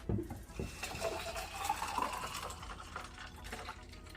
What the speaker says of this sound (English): And we're going to pour our juice.